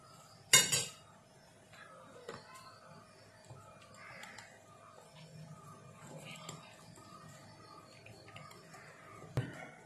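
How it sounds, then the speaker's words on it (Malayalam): Cauliflower snack ingredients being mixed in a bowl, a sharp clink of utensil on dish early on, then soft intermittent scraping and tapping with another clink at the end. "ഇത് നന്നായിട്ട് നമുക്ക് മിക്സ് ചെയ്തെടുക്കാം."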